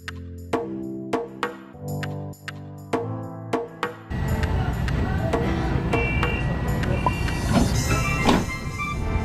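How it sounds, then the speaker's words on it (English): Interior of a moving train heading to the airport: after a few seconds of sparse clicks and taps, a steady loud rumble of the carriage fills the rest, with rattles and brief squeaks over it, no talk. "Currently on the train"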